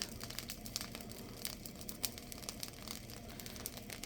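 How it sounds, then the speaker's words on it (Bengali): Rice grains dry-roasting in a pan with salt, giving a steady close crackle and rustle with scattered sharper ticks as the grains are stirred, continuous and without voices. "চালগুলো আমি ভেজে নিচ্ছি"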